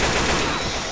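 Gunfire from the Left 4 Dead 2 video game in versus realism mode, a dense, continuous burst of shots with no break, loud and close across the whole moment.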